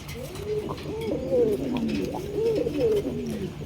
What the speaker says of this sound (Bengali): এটা একদমই বিগ সাইজের শাটিন কবুতর